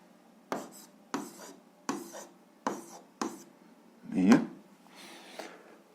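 A pen scratches across paper in short separate strokes, about six quick bursts spaced roughly evenly, close and fairly quiet with a slightly heavier rub near the end.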